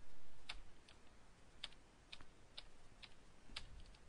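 Keys on a computer keyboard are tapped out to enter a Perl command at a command prompt: sparse, crisp individual clicks spaced irregularly across a few seconds, close and fairly quiet, with no voice.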